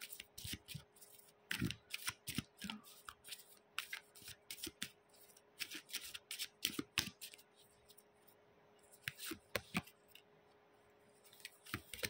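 A deck of tarot cards is shuffled by hand in quick riffling bursts with short pauses between them, crisp and close in a quiet room, with no talk.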